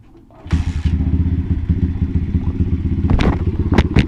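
A pit bike engine with a flat tire idles at close range with a rough, throbbing clatter, then revs up briefly near the end.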